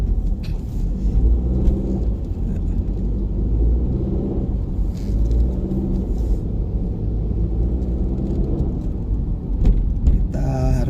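A car creeps slowly along a narrow village road in Pacet, Mojokerto, its engine and tyres making a steady, close low rumble that holds evenly throughout.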